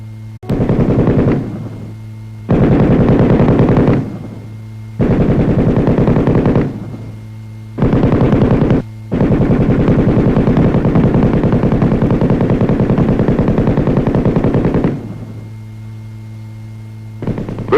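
An M60 7.62 mm machine gun fires long, loud, close bursts, each lasting one to six seconds and separated by short pauses, with a steady low hum underneath throughout.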